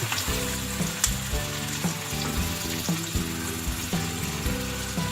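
Coarsely cut onions frying in a pan until soft, a continuous close sizzle with small rhythmic bursts of crackling, heard alone without talk.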